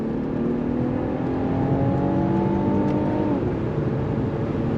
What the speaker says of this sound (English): we're gonna do first gear from a roll. On throttle, here we go.